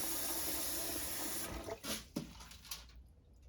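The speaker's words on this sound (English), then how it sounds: "I'll put my chicken back in and rinse it off." Cold tap water runs steadily into a sink over raw chicken, a loud hiss that cuts off partway through, followed by a few wet splashes and drips.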